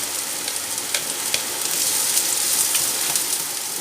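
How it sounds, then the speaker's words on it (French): Red onion frying in olive oil in a pan, with a continuous close sizzle and crackle speckled with small pops, fairly loud and alone. "je mets l'oignon rouge"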